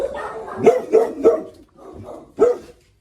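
Several dogs bark in an animal shelter, a string of sharp, close barks in an uneven rhythm with brief pauses, loud and alone without talk.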